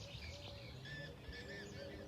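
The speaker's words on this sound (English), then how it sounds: "Oh, we got a bird out here." A bird calls outdoors near fallow fields, giving faint, short whistled chirps at a distance over quiet background noise.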